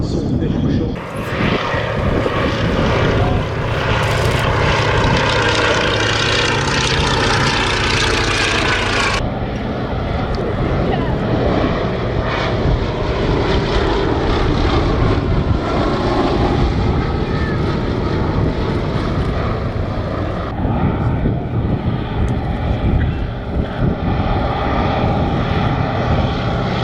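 A Fairey Swordfish Mk 1 biplane at an airshow passes with a loud, continuous radial-engine and propeller roar that holds steady throughout, with a brief shift in tone partway as the aircraft moves past.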